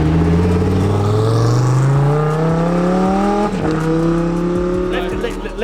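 A 2011 Audi R8 LMS GT3, a factory-built Audi Sport race car, revs hard, its engine note climbing steadily in pitch before a brief dip and renewed rise, loud and close.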